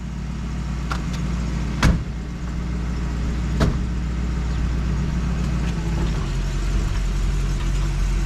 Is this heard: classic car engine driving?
yes